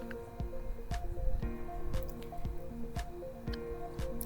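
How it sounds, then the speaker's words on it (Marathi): Soaked rice goes into boiling spinach pulao, making repeated wet squelches and drips at a steady rhythm of about two per second, close and moderately loud. "त्यानंतर आपण जे तांदूळ भिजत टाकलेले होते ते आपण यामध्ये टाकून घेणार आहोत"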